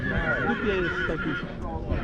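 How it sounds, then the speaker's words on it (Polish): A horse neighs amid the steady din of a crowded horse fair in Skaryszew, Poland, its whinny rising briefly over continuous background chatter and bustle. "Teraz zobaczcie głównych aktorów tej imprezy, czyli właśnie konie"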